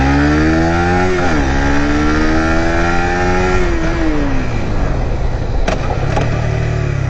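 Suzuki GSX-R150 motorcycle engine revving high and then dropping through engine braking, its harmonic whine rising and falling in pitch, loud and close with no talk.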